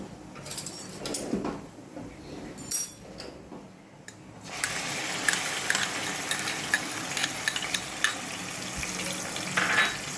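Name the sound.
cumin frying in oil for gravy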